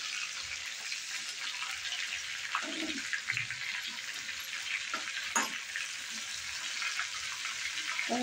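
Brinjal (eggplant) pieces frying in a pan for a spicy khara vanga dish, giving a steady, loud broadband sizzle throughout with a few brief scraping stir clicks, and no voices.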